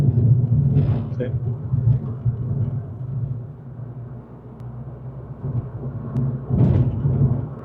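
A Suzuki Swift Sport Hybrid cruising in fifth gear at about 1700 rpm, heard from inside the cabin: a steady low engine and road rumble with faint hiss, swelling briefly a couple of times, and no one talking.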